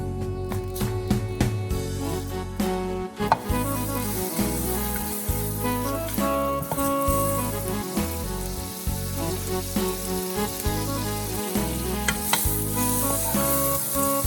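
Butter sizzles loudly in a hot frying pan while making chicken Alfredo, a continuous crackling fry with repeated scraping and stirring strokes throughout.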